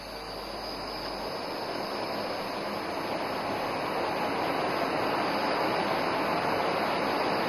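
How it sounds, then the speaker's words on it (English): A military jet engine at full power during an Indian Air Force air show on a highway airstrip: a steady, loud, broadband roar with a high whine, holding constant and swelling slightly. "And notice the aircraft is now opening full power."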